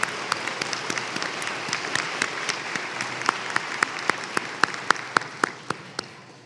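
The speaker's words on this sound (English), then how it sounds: "we might give them a round of applause to our faculty and staff." A crowd at a winter commencement ceremony claps for faculty and staff, a steady wash of applause with sharper individual claps standing out near the end.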